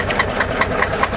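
Restored Sabb 10hp single-cylinder boat engine idling, with a steady, even chugging beat of about five firing pulses per second, heard up close over a continuous mechanical rumble.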